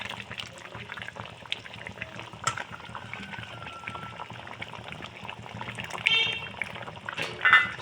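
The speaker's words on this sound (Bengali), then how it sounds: "মাছটা ভালো করে ফোটার জন্য আমি দিয়ে দিয়েছি" Bata fish simmering in a mustard paste curry, a steady soft bubbling and burbling from the pot with a few louder splashy bursts near the end, close and continuous with no talking.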